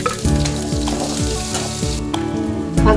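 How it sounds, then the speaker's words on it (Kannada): Mustard seeds and chopped onion sizzle steadily in hot ghee in a pan for tempering, a loud continuous frying crackle with no talking over it. "ಇನ್ನು ಬಾಣಲೆಗೆ 2 ಸ್ಪೂನ್ ತುಪ್ಪ ಹಾಕಬೇಕು. ಸಾಸಿವೆ, ಈರುಳ್ಳಿ, ಇದು ಒಗ್ಗರಣೆಗೆ"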